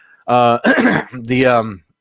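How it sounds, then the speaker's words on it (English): A single throaty cough or throat clear, close and abrupt, broken into a few harsh bursts. "They call that a Jersey cough out here in the Northeast."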